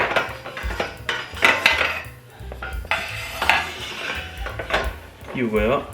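A metal basket for an IKEA RÅSKOG cart is slotted into place, with clattering metallic knocks and scrapes in irregular bursts, close and fairly loud.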